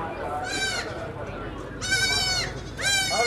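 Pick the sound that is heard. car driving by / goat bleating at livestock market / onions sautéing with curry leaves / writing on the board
goat bleating at livestock market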